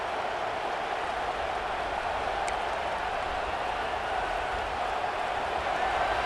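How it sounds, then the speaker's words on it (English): A dense, steady roar of a large stadium crowd in the video game EA Sports College Football 26 fills the space, constant and distant-sounding, with no distinct voices standing out. "It's early, but this crowd is fired up. Listen to this noise here."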